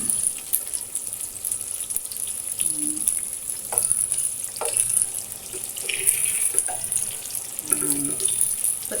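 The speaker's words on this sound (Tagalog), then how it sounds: "Ito yung aking pinipritong tokwa" Tofu frying in a pan, a steady hissing sizzle held at a constant level throughout with faint clinks and small bumps scattered through.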